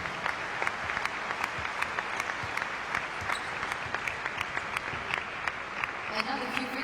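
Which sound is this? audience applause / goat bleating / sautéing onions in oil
audience applause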